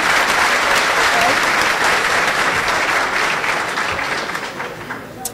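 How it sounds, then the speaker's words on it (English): Dense, loud applause from a luncheon audience at a scholar athlete awards event, a sustained wash of many hands clapping that tapers slightly toward the end, with no talking. "So let's give one last round of applause for the incredible team achievements."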